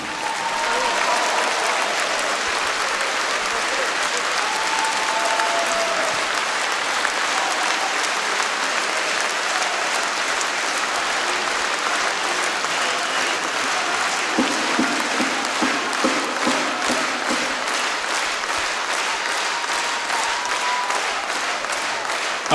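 Sustained, loud applause from a concert audience for the members of the Advakov brothers' folk orchestra at the Potcoava de Aur 2019 show, steady dense clapping lasting throughout with a crowd murmur beneath.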